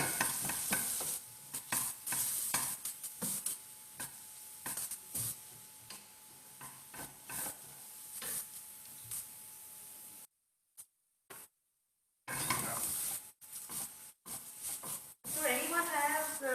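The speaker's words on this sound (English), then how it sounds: "I'm going to just saute it" Onions sauteing in a pan during a cook-along, a steady sizzle with stirring scrapes and clacks, cut by a brief gap of near silence before the frying returns, with a voice speaking over parts of it.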